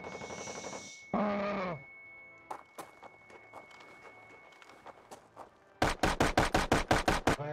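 Gunfire in a multiplayer shooter video game: scattered single shots and footsteps, then a fast burst of about eight loud, evenly spaced shots near the end, with a voice heard briefly early on.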